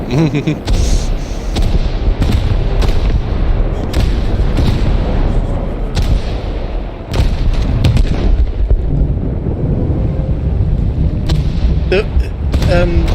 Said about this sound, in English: The new VFX is in this now, right? New explosions and stuff.